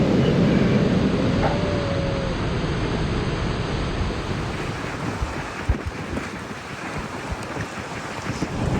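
Big, rough ocean waves at Pambula and Merimbula beach on the Sapphire Coast, heard as a steady loud wash of surf mixed with heavy wind buffeting the microphone, with no talking.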